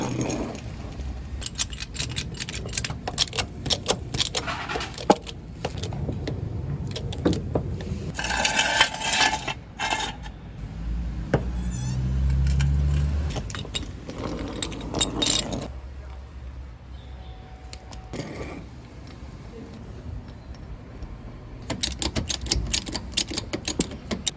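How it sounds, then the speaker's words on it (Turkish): Hydraulic jacks and 3-ton jack stands ratchet, clank and scrape while a Renault Symbol 1.5 dCi is raised in a workshop, with irregular metallic clicks and knocks spread across the clip. "daha küçük bir kriko ile aracı hafifçe kaldıracağım ve hidrolik krikolar ile istediğim seviyeye yükselteceğim"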